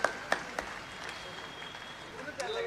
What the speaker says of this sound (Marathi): एकदा जोरदार टाळ्या सगळ्यांसाठी खरंच